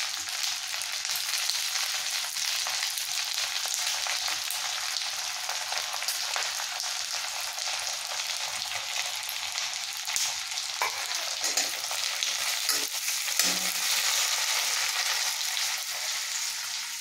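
Sliced onions frying in a pan over lowered heat for chili chicken fried rice, a steady close sizzle running throughout with occasional scrapes and clinks of a spatula stirring, and no talking.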